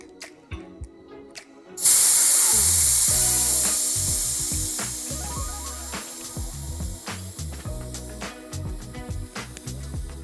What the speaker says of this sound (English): Give the tyre a bit of a squeeze as well while the air's coming out, just get the last bits free.